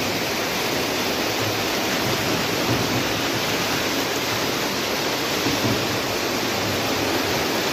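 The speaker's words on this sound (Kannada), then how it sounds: "ಇದು KRS ಡ್ಯಾಮಿಂದ ಹರ್ಕೊಂಡು ಬರ್ತಾ ಇರ್ತಕ್ಕಂಥ ನೀರು" Forceful water from the KRS dam rushes steadily near Pandavapura in Mandya, a dense, continuous roar filling the whole clip without pause or voices.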